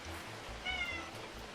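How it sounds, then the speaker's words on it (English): A pet cat meows once in the middle, a short, fairly clear cry over steady low background hum and faint rushing noise. "If you hear meowing, that is my little cat who has decided that the microphone is out"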